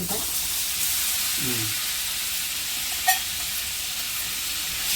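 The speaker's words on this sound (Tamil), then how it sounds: "இதை நல்லா ஃப்ரை பண்ணி அந்த குருமாவில் போடணும்" Quarter kilo of cut paneer frying in melted butter, a steady moderate sizzle with a brief scrape early on and one sharp tap midway, no clear talking.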